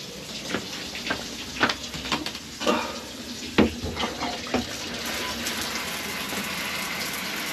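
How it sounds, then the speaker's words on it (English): Water drains from the tank of a Globetrotter Airstream trailer, starting with irregular splashing gushes and settling into a steady rushing flow close by. "so when we drain the tank"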